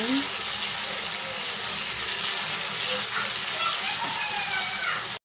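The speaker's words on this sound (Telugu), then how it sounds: "దీంట్లో ఒక స్పూను అన్నం వెల్లుల్లి జీలకర్ర పేస్ట్ వేసానండి ఇది కూడా కొంచెం పచ్చివాసన పోయేదాకా మనం ఫ్రై చేసుకున్నాం" Garlic and cumin paste fries in a pan with a steady, bright sizzle. The hiss is close and continuous, with faint stirring scrapes and a soft voice in the background.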